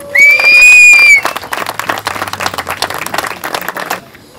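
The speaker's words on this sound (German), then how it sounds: "Applaus für die Damen." A short loud whistle-like tone rings out, then an audience applauds with scattered, fairly close clapping that tapers off after a few seconds.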